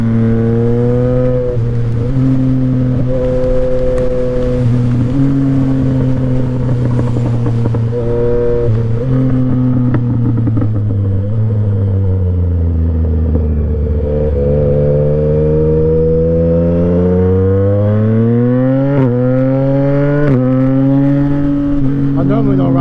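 A Yamaha MT-09 motorcycle on the move, its engine droning steadily and rising and falling in pitch as the rider works the throttle, close and loud throughout the ride.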